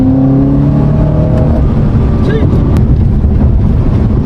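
A BMW M5 with the S63 V8 engine revs and pops on lift-off in a loud street pull, the engine note dropping away under heavy wind noise with brief voices.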